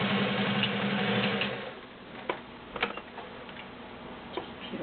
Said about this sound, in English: Nice consistent stitch on leather.